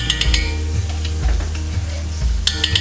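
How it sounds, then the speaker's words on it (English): Lamb browning in a cast iron pan sizzles loudly and steadily, with a few soft scrapes and knocks of a utensil stirring it. "I'm gonna start by browning the lamb in the cast iron."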